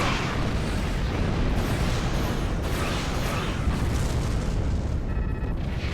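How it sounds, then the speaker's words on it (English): A big torpedo detonating against an enemy starship in Star Trek Online, a loud, sustained rumbling blast that roars steadily for several seconds, with a faint tonal whine near the end. "I love the big torpedo."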